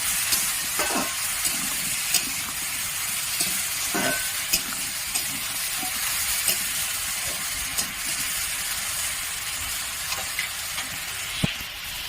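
Ridge gourd and potato with turmeric and salt fry in a pan, a steady bright sizzle and hiss with intermittent scraping and tapping stirs, close by, without speech.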